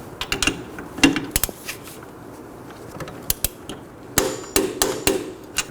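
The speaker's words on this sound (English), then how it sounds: "Now let's go ahead and torque this down to 43 foot-pounds." A torque wrench tightens the sway bar end link bolts on a 2018–2024 Chevrolet Equinox, giving sharp metallic clicks, knocks and ratcheting creaks in irregular bursts, close up, with no talking.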